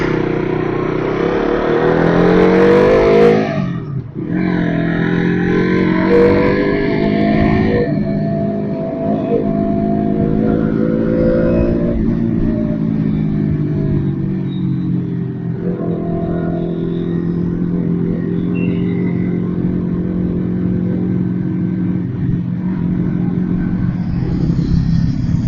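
KTM RC 200 motorcycle engine riding through city traffic, a steady loud drone with rising and falling revs and surrounding vehicle rumble, one brief dip in the noise early on.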